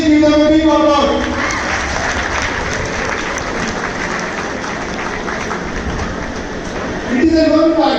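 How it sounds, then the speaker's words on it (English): Staff and audience at a junior college farewell party break into broad, sustained applause, a dense crowd clapping between stretches of a speaker's voice at the beginning and end. "Please give them a big applause"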